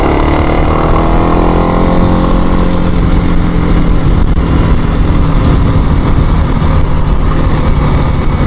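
A two-stroke engine runs steadily and close by on a country ride, giving a loud, continuous buzzing drone with no break across the whole stretch, and no voices on top.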